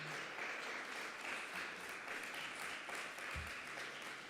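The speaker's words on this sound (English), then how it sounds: "So how about a big round of applause for just being in person and being together tonight." Audience applause at an evening video contest award recognition event, a dense, fairly quiet and distant wash of clapping held steady for several seconds, with no talk over it.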